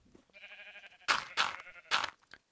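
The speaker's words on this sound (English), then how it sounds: "I so want to kill some of these sheep right now" Sheep bleat in the Minecraft video game: a drawn-out nasal call followed by three shorter, louder bleats in quick succession, close and clear.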